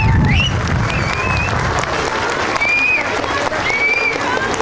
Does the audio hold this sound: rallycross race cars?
no